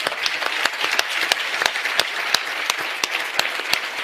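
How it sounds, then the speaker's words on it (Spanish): Audience applause at a political rally in Madrid, a dense, sustained crowd clapping with sharp individual claps standing out, steady and loud from start to finish with no talk over it. "os voy a pedir un aplauso para toda esta gente porque es increíble"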